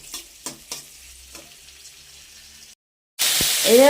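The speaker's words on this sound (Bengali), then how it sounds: "আগে ফুলকপিটা ভেজে নেই" Cauliflower frying in hot oil for a paneer curry: a loud, dense sizzle bursts in near the end after a pause, following quieter clinks and stirring.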